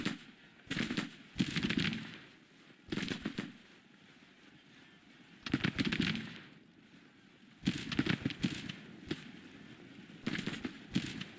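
Gunfire from a Grand Tactician: Civil War battle, with repeated bursts of rattling musket volleys that come in clusters of shots separated by quieter gaps, moderately loud and with no talking.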